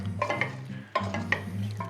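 Cabbage soup with kimchi and sweet potatoes is stirred in a pot with soft scraping and clinking, a low steady hum beneath, and a brief clunk partway through.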